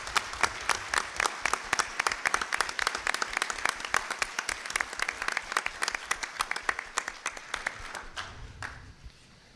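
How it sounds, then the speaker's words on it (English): Lively applause from an audience at a Star Wars original props and costumes collectors' gathering, crisp individual claps dense at first, gradually thinning and fading to a few stragglers near the end. "Big round of applause for him"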